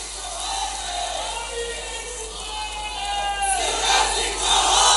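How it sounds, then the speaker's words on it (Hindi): A large crowd at a political rally in India chants slogans in loud unison, the rhythmic shouting swelling and growing stronger toward the end. "अभी नारे बंद"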